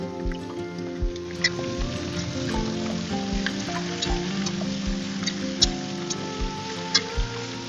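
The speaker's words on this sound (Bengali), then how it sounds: "এবার এর মধ্যে দিয়ে দেব চাল কুমড়ো এর মধ্যে দিয়ে দিচ্ছি আন্দাজ মতো লবণ" Ash gourd pieces and salt sizzle loudly in a hot pan, a constant crackling fry close by, punctuated by regular light taps and knocks from stirring.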